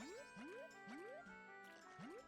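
Four springy rising boings from a wooden Deku Scrub bouncing across water in Zelda: Majora's Mask. They come at a quick, regular pace with a light, watery, musical tone over quiet game music.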